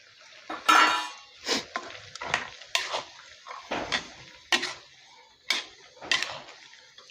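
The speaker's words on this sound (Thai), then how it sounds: "คนให้เข้ากัน" A utensil scrapes and clanks against a pan in repeated irregular strokes while stir-frying spicy eel, with a soft sizzle beneath, close and fairly quiet.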